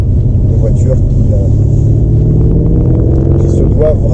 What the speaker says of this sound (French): Et c'est parti, ça y est, la voiture décolle.